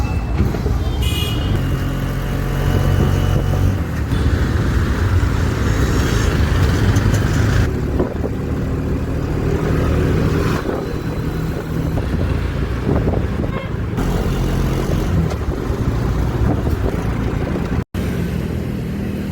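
Riding inside an auto rickshaw, a loud continuous engine drone and road rumble mixed with heavy wind buffeting on the microphone, with faint traffic and an occasional distant horn, and no talking.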